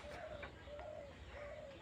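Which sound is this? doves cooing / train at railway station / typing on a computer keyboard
doves cooing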